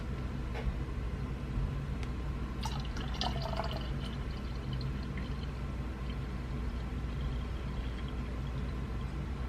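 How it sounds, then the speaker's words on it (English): Distilled water poured into a container for a direct-to-garment printer setup, heard as a faint trickle with a few light drips over a steady background hiss. "I'm probably going to fill it up to right here with distilled water. This is my distilled water. I'm going to pour into here."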